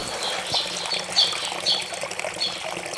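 A stream trickles and burbles steadily, with small bright splashes recurring in an uneven rhythm at moderate, close-up loudness.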